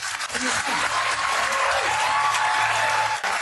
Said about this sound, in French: Regarde tous ces idiots qui applaudissent